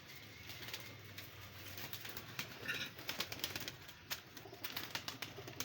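Pigeons coo in repeated soft throaty phrases close by, set against a low continuous background hum, with a few sharper chirps and faint flutters mixed in.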